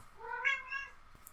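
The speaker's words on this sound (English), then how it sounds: "Why are you meowing at me?" A house cat meows several times in a row, close and fairly loud, with rising and falling drawn-out cries in a quiet indoor room, alone with no talking.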